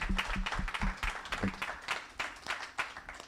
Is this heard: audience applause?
yes